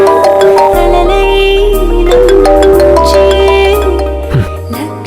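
A mobile phone rings with a loud melodic electronic ringtone, repeating tonal notes alone for several seconds before a brief word is spoken.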